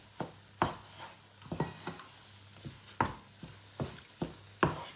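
Spoon scraping and knocking against a pot as a thick mixture is stirred nonstop, a series of sharp, close clicks and scrapes at uneven intervals with quiet gaps between.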